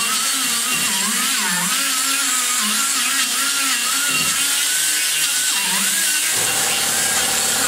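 A power tool whirs steadily at high speed while sanding the ports of a BBC 360 cylinder head, loud and close, with its pitch wavering under load before dropping into a lower spin-down near the end.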